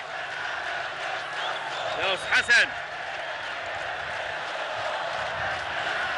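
Football fans roar in a stadium during a riot at a Zamalek versus Fayoum Egypt Cup match, a steady broad crowd din with a short swell of shouting in the middle, under a voice.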